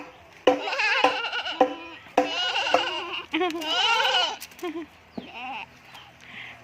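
Two baby goats bleat repeatedly up close in a run of wavering, voice-like cries of uneven length, with short pauses between bursts.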